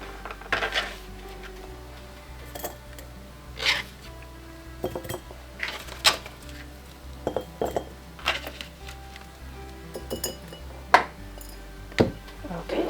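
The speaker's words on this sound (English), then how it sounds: "I am going to do 5 cloves of garlic per jar." Peeled garlic cloves dropped into glass pickle jars give a series of sharp, bright clinks and taps at irregular intervals, close and moderately loud over a low background hum.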